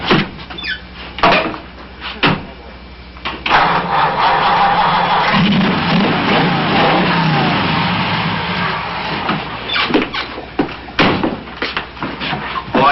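A hot rod with chromium-plated manifolds and twin carburetors cranks and fires up, settling into a loud, steady running roar with a few mechanical clunks before and after.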